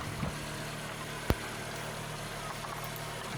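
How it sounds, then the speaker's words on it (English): VW Golf 5 engine idling with an ignition misfire on cylinder 2, a steady low hum heard close up, with a single sharp click partway through and no talking. "engine is on idle."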